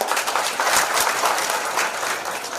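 A crowd at a public event claps in a brief, dense burst of applause, close and steady for a few seconds with no talking.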